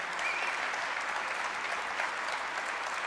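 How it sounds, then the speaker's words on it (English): A packed room of listeners breaks into dense, steady applause for Senator Rachel May of the Agriculture Committee, the clapping holding at an even, fairly loud level throughout with no voices standing out. "let's give her a warm round of applause as well"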